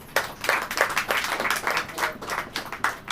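A church congregation claps during a sermon, a steady run of distinct hand claps in a fairly rhythmic pattern lasting a few seconds, with no voices over it.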